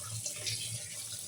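Soybean chunks are rinsed under a running kitchen tap, with a continuous close splash and rush of water into a sink and no talk.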